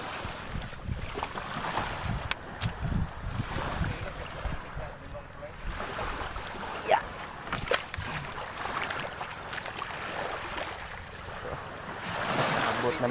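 Surf washing up along a beach shore near a boat, a steady broadband rush with swelling surges and gusts of wind buffeting the microphone; a faint voice is heard at moments.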